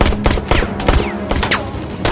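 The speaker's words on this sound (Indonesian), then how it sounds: "Zuma terkena tembakan di kaki" Bursts of gunfire in an action film fight scene, rapid loud volleys of shots with sharp repeated cracks and a few whizzing ricochets, no voices.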